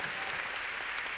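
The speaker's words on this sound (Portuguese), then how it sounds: "E que salva de palmas pro mágico." An audience at a happiness conference claps for a magician, a brief burst of muffled, fairly distant applause with no voices over it.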